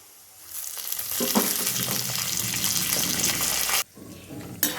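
Curry leaves hit hot oil where coconut is already browning for a crisp chivda, giving a loud, steady sizzle and crackle that cuts off abruptly near the end before a brief burst returns.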